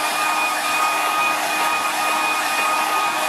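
A hair dryer blows steadily on a freshly painted watercolour, a continuous, loud airy whoosh with a faint high whine running unbroken throughout, with no voices.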